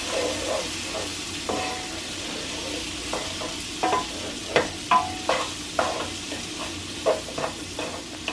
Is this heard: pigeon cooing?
no